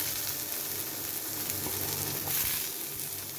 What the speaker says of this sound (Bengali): এর মধ্যে আমি দিয়ে দিচ্ছি চিংড়ির মাথা এবং ছাপ্পাগুলো।